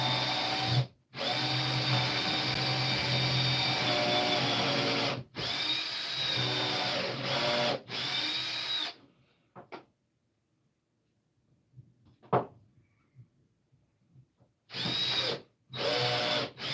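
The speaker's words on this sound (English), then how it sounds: "So what I'm going to do here is drill this one down." A power drill drives into wood, whirring in several long bursts with brief pauses between, then falls quiet before a few more short bursts; close and fairly loud, no talking.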